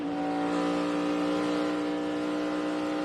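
A NASCAR Sprint Cup stock car at Michigan International Speedway holds a loud, steady high-pitched engine drone with strong harmonic whine, sustained through the whole stretch without speech.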